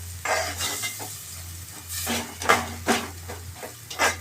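Ground paste being stirred into a cooking mixture in a pan, with repeated scraping and sizzling strokes at an uneven rhythm, close and fairly loud over a low steady hum.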